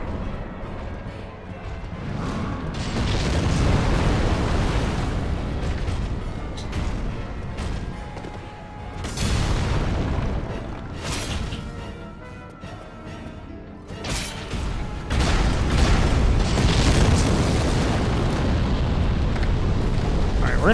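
Heavy bomb explosions in a video game, a string of loud booming blasts and crashing bursts over a roughly twenty-second stretch, each swelling and rumbling, with a voice faintly underneath at times.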